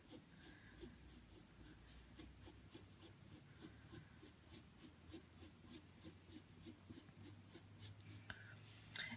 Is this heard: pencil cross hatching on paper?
yes